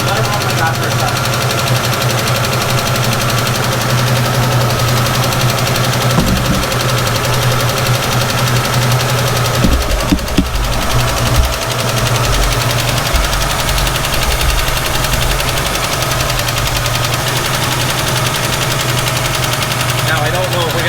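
A 1967 Ford Mustang engine runs steadily after a hard start, a loud continuous low idle with a slightly uneven knocking beat and a couple of brief revs or stumbles midway, while people talk nearby.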